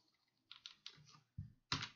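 Keys tapped on a computer keyboard during Python coding, a few quiet separate clicks and short bursts of typing close by, with no voice over them.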